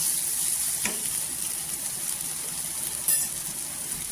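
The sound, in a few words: dry spices and kala masala sautéing in oil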